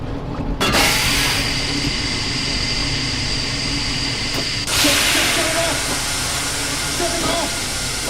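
Steam hisses loudly and continuously from a steam system in the video game Metro VR, a broad, steady roar that flares up twice, with voices speaking over it.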